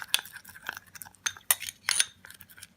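A spoon stirs a homemade face paste with apple cider vinegar in a small dish, making close, sharp clinks and scrapes in irregular bursts over near silence.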